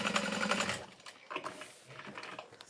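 A sewing machine stitches a seam on a Freesia fold-over bag with a quick back stitch: a dense, fast mechanical whir for almost a second, then lighter, intermittent stitching and clicks at close range.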